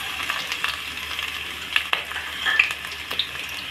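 Steady crackling sizzle of asafoetida and cumin frying in hot oil for masoor dal, with occasional sharper pops and spatters, close and moderately loud.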